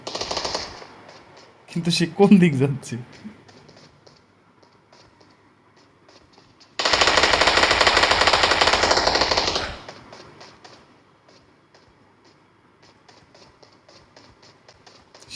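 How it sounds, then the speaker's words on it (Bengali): Video game gunfire from a mobile shooter match: a short burst near the start, then a dense sustained automatic volley lasting a few seconds, with a brief spoken question in between. "সে গুলির শব্দ পেয়ে সে দৌড় দিয়েছে,"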